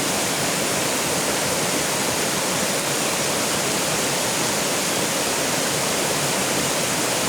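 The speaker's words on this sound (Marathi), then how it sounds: "डोंगराच्या प्रवाहातून तुम्ही बघत आहात हे पाणी किती खळखळ वाहत आहे" Mountain stream in the Konkan hills rushing rapidly over rocks, a loud, unbroken broadband roar of fast-flowing water, close and constant.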